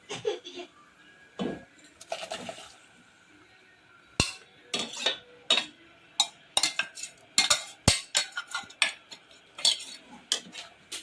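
A spoon clinks and scrapes against a pot while coconut paste is stirred into a bitter gourd and egg curry, with irregular bursts of sharp metallic taps that grow busier toward the end, heard close with no talk.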